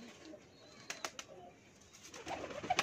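Pigeons sold for keeping coo softly in the background, with a few sharp rustles and wing flutters standing out from the quiet.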